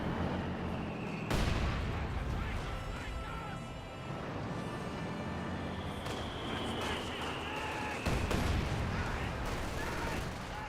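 Sustained battlefield gunfire from Company of Heroes 2: a dense, continuous crackle of small-arms and machine-gun bursts with sharper heavy blasts near 1.3 and 8 seconds, all fairly loud and steady.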